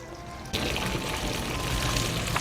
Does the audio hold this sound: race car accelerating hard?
no